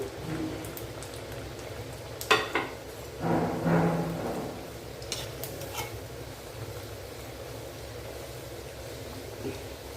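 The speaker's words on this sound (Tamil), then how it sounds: "எண்ணெய்க்கு ஏற்ற மாதிரி போட்டு பொறிச்சுக்கோங்க" Sweet almond puris fry in hot oil as a soft, steady bubbling sizzle, with a couple of louder splashy bursts early on as dough drops in, then settling back to a quiet fizz.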